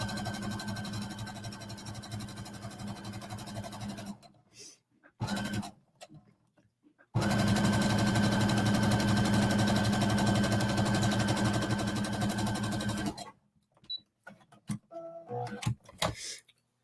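Sewing machine stitching leggings fabric in two loud, steady runs, the first about four seconds and the second about six, separated by a short pause with a few quiet handling sounds.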